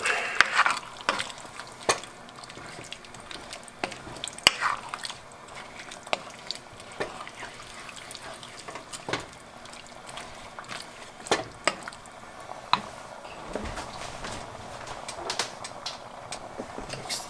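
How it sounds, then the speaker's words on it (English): Fresh vegetables for Hungarian goulash are stirred in a pot, giving soft scraping and clinking strokes over a faint sizzle at a quiet, irregular rhythm. "Just kind of stir them around a little bit."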